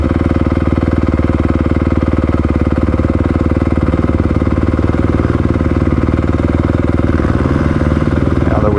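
A motocross bike engine runs steadily and loudly up close, a constant buzzing drone that holds even throughout, with some rising revs toward the end.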